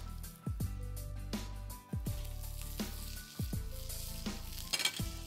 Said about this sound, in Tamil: கொஞ்சம் கடுகு, அந்த கடுகு பொரிஞ்ச உடனே ஒரு நாலு உளுத்தம் பருப்பு